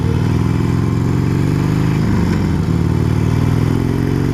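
Harley-Davidson Sportster motorcycle being ridden, its engine a steady, loud, close rumble with a clattering mid-range drone that holds throughout with no talk over it.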